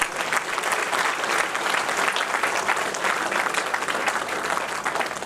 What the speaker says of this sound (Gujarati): એમણે જેટલી ટર્મ આપી ને એટલી તાળીઓ નથી પાડતા તમે